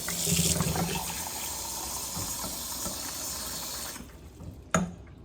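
Tap water runs steadily into a container being rinsed, splashing and rushing close by, then cuts off near the end with a small clunk.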